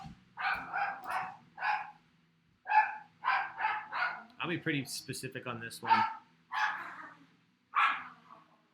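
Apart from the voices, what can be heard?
angry dog barking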